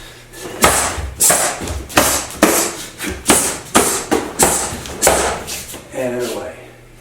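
Repeated knee strikes thump into a striking pad during a karate pad drill, about a dozen sharp impacts in a steady rhythm with speech in between.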